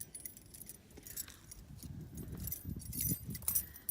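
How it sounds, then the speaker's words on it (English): Two sets of keys jangle and clink as they are lifted from a lockbox, a quiet close-up metallic rattling that builds toward the end. "you can grab the 2 sets of keys, shut the lockbox, and close the front"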